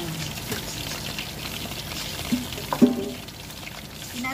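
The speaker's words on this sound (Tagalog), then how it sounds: "Then, lagyan na natin siya ng sabaw." Broth poured into a pan of sautéed bottle gourd, a soft steady pour and trickle under a low simmer, with a couple of brief louder splashes near the end.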